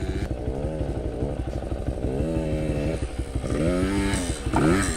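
A motorcycle engine revs close by, its pitch rising and falling through several surges of throttle, with a buzzy, chainsaw-like tone as the rider attempts a wheelie.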